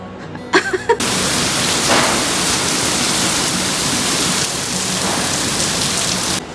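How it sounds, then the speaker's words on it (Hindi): Very heavy rain pours down in Kanpur as a dense, continuous roar of water on surfaces, loud and close. It starts after a few brief clicks and keeps going unbroken. "तो आज कानपुर में हो रही है बहुत ही तेज़ बारिश।"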